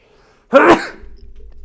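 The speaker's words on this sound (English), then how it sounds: "I can feel a string of sneezes coming on" A single sharp human sneeze, close and fairly loud, bursting out of near silence and followed by a faint low background hum.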